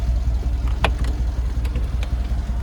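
A 2015 Mercedes-Benz G63 AMG idles through its AMG exhaust, a steady low rumble close by with a few brief clicks and taps over it, and no talking.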